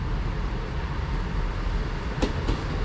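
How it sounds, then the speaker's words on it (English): A Northern train pulls into a station platform in North Yorkshire with a steady low rumble, a couple of brief squeals near the end, no voices. "the next train to arrive is the 1606 Northern service to Nunthorpe"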